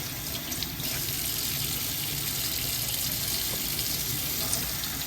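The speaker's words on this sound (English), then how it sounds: "Let me bring the faucet over some more." Steady, continuous rush of tap water running from a sink faucet, used to rinse a Rose of Jericho plant, filling the whole stretch at an even level with no talking.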